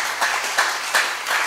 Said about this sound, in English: Clap your hands. Piga makofi.